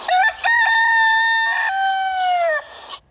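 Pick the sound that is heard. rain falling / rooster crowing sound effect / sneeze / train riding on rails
rooster crowing sound effect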